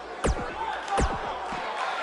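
A crowd at an event swells in two short bursts of loud roaring and shouting, each fading quickly, with only a low murmur in between.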